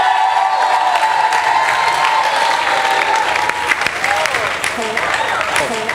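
Loud crowd applause with cheering as a drummer group is welcomed, dense clapping with rising shouts and whoops from the audience near the end.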